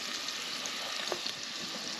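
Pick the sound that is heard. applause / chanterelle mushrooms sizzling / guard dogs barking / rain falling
chanterelle mushrooms sizzling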